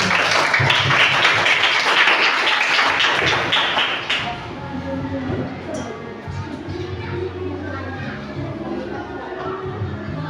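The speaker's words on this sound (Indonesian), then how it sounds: "Yuk tepuk tangan." Children clapping their hands together in a classroom, a dense burst of quick claps that fades after a few seconds into quieter room murmur and shuffling.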